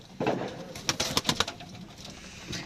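Pigeons cooing inside a breeding coop, a few soft, throaty coos that come in short bursts and carry a faint rustle between them, close by and otherwise quiet.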